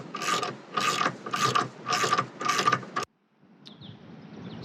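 A bolt with washer and nylock nut is tightened on an awning bracket fixed to a LandCruiser roof rack, giving five close, loud bursts of ratcheting clicks and then a faint rub.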